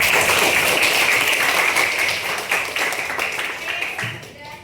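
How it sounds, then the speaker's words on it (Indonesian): Classroom students clap together during a school counseling lesson, a dense patter of scattered hand claps mixed with voices, steady before thinning out near the end. "Jadi tepuk tangan dulu."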